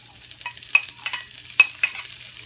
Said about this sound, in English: And then we're going to add our garlic, fried garlic and onions.